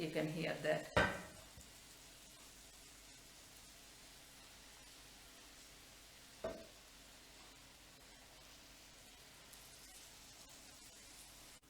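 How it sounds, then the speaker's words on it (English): Sugar syrup sizzles on hot baklava with a faint, steady hiss. A brief voice and a clatter come at the start, and a soft knock follows midway. "Just evenly, you will hear a bit of sizzling sound."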